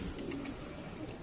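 Soft pigeon cooing amid a steady low background rumble at a pigeon flying tournament in Allahabad, faint and continuous throughout.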